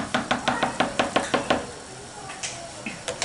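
A spoon knocking and scraping in a pan while stirring and breaking up cream cheese into a thickening cream sauce for keto chicken alfredo, a steady run of about ten quick taps, then a pause and a few more.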